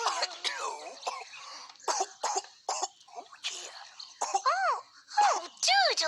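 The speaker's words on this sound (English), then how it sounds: "that's a nasty cough you got there." Cartoon puppet dog from a children's Christmas show coughing and clearing its throat in repeated harsh, rasping bursts, close and fairly loud, with squeaky voiced sounds mixed in between the coughs.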